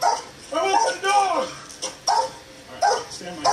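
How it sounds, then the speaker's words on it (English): A police dog barks at a traffic stop after a high-speed chase, giving several sharp, near yips and barks in uneven bursts, mixed with whimpering, while people shout and talk around it. "I will send the dog!"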